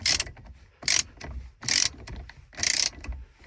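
Ratchet wrench tightening an M12 bolt on a VW Touran or Caddy: four loud bursts of rapid clicking spaced about a second apart, with quieter ratcheting between them, close to the microphone with no talking.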